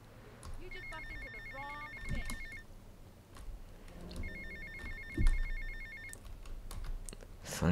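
A phone ringing in GTA Vice City, two bursts of electronic trilling rings separated by a pause, heard over low game ambience and scattered clicks.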